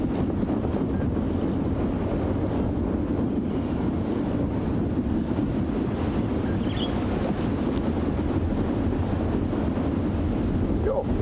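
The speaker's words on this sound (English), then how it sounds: "Almost a gale force wind coming in from the south now." Strong, near-gale south wind buffeting the microphone at a safari sunset, a steady loud rumbling roar that never lets up, with a faint high bird call faintly audible above it.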